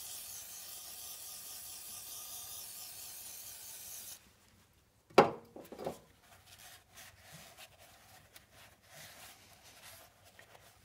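Throttle body cleaner hisses from an aerosol can into the throttle body of a PT Cruiser. A steady spray cuts off, followed by a sharp clatter and faint scraping, close by.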